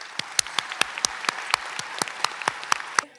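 Crisp, steady clapping rings out at a high school commencement in a performing arts hall, individual claps spaced closely and sharply defined. It sounds like a modest group applauding fairly near, then stopping abruptly.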